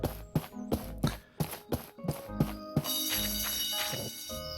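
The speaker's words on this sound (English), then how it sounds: "that was the school bell ringing" A school bell in the farming-life video game My Time at Portia rings in a run of about eight evenly spaced strikes, then gives way to a sustained, brighter tonal wash with no talking over it.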